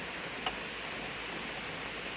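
Steady rain falls in a soft, continuous hiss, heard from a balcony, with one faint drip-like tick standing out near the start.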